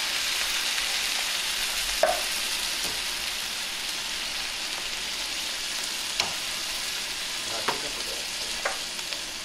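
Tomato sauce and diced tomatoes are mixed in a pot with a utensil under a soft, constant sizzle, with occasional light scrapes and taps against the pot and no voices.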